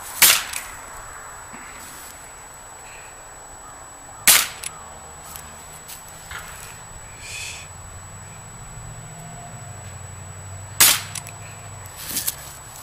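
Pellet gun shots at target practice, three sharp cracks spaced several seconds apart against a quiet outdoor background, with faint ambient noise between.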